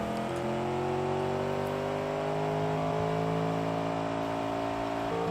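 An overheating car engine in the BeamNG.Drive video game, revving hard and holding a loud, steady, rising whine with no one talking.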